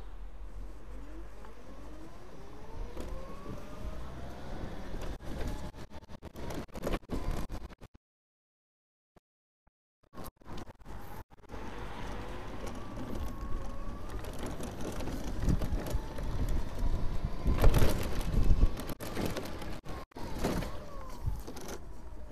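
Enerbike Senior 24 electric tricycle motor run at full throttle in third gear, a steady electric whine rising in pitch and holding loud, broken by a short silent gap before resuming with road and mechanical noise.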